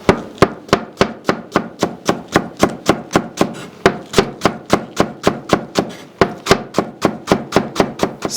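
Knife chopping leek, garlic and green onions on a board, a steady fast rhythm of about three crisp strikes per second, close and loud, continuing alone with no talk.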